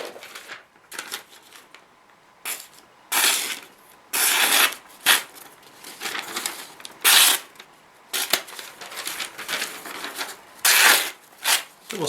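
A Cold Steel Prolite knife slices through foam board and paper in repeated bursts, loud close scraping strokes separated by brief pauses, some cuts longer and rougher than others.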